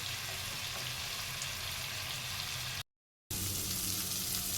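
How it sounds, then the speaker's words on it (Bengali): Chicken pieces fry in a pan over a high gas flame, giving a steady, dense sizzle that runs throughout apart from one short break of silence. "চিকেনগুলোকে ওলট পালট করে বেশ মোটামুটি ভালো করেই ভেজে তুলে নেব।"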